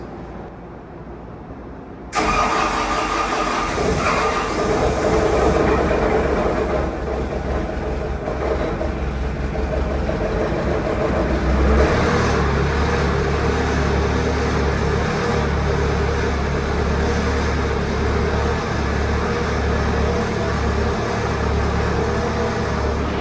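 An engine cold-starts after a Dana 60 axle re-gear. A short crank catches at once into a loud, steady idle that carries on evenly for the rest of the recording.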